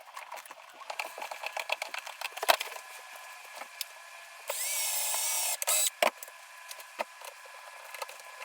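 A drill drives screws through reinforced webbing patches on a boat, giving one steady, loud whirring burst of about a second among scattered clicks and handling taps.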